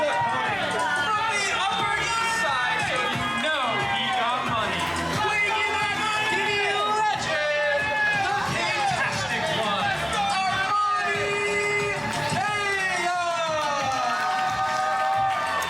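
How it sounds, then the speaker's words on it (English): A wrestling crowd at a WFA event roars and cheers steadily, loud and dense, with whoops and shouting voices rising in waves throughout. "the crowd absolutely loves Armani Kayos"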